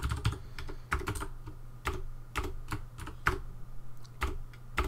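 Irregular bursts of keystrokes clatter on a computer keyboard, close and fairly quiet, in short clustered runs with brief pauses between them.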